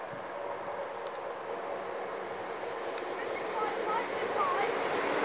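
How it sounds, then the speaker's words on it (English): A Great Northern class 365 electric train pulls into platform 2 at Peterborough Station, heard as a faint, steady rumble that slowly swells as it draws closer, with a thin squeal or two of wheels or brakes near the end. "Great Northern 365 about to arrive into platform 2, this platform we're standing on, here at Peterborough Station."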